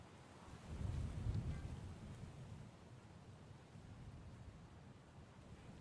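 Ocean water on the coastal loop of the indieVelo cycling game, a soft, low rumbling wash of surf that swells briefly early on and then settles into a quiet steady roar.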